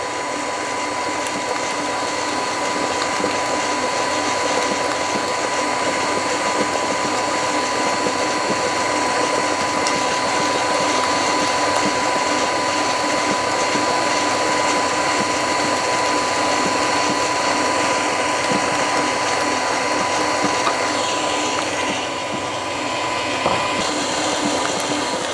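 An electric mixer beating eggs into cheesecake batter for an Oreo grasshopper cheesecake, a steady loud mechanical whir with rattling gear noise that runs unbroken throughout.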